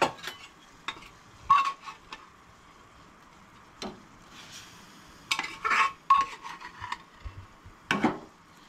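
Horse gram dal tipped into a hot Goan-style tempering and stirred in a pan, giving scattered scraping and clinking strokes with a faint sizzle, loud bursts separated by quieter gaps.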